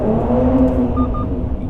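A 2019 Mercedes-AMG C43 with a performance exhaust in Sport Plus mode, idling and revving in an underground car park, a loud, close engine drone echoing briefly.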